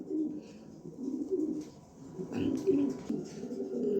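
Pigeons keep up a continuous low cooing nearby, their throaty rolling calls overlapping in repeated waves with no speech.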